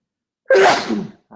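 A single loud, close human sneeze bursts out abruptly after silence, then trails off, followed by the start of a faint sound at the very end.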